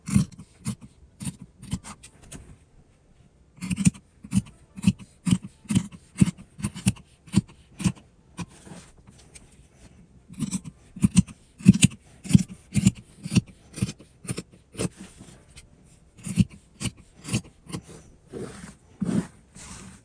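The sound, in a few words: scissors trimming fabric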